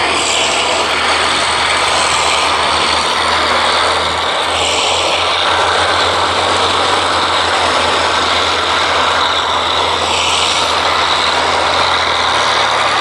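Vintage biplane propeller engine running steadily at a VE Day air show at Duxford, a loud continuous drone that holds throughout with no pauses and no voices.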